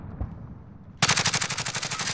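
Video game gunfire: after a second of low background rumble, a loud, rapid automatic-weapon burst erupts and rattles on in steady, close repeated shots.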